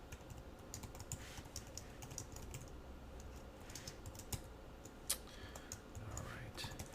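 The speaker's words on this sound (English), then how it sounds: "I can speed along my typing" Computer keyboard typing while writing JavaScript code, quick irregular key clicks and taps close by, with quiet talk underneath.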